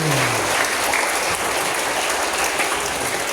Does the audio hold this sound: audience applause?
yes